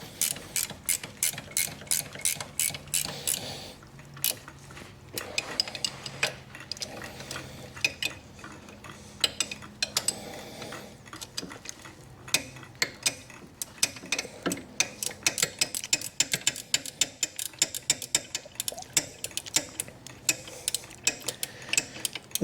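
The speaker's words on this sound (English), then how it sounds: "so a ratchet wrench is definitely helpful here" Ratchet wrench tightening bolts on the right-side hydro of a Walker mower, giving fast rows of sharp clicks in repeated runs with short pauses, close up and with no talking.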